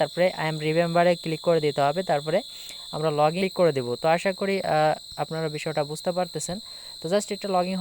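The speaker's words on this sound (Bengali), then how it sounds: "ঝিঝি পোকা ডাকতেছে, আপনারা অবশ্যই বুঝতে পারতেছেন" Crickets chirp outdoors at dusk in a continuous high, steady trill that runs throughout beneath someone talking close up.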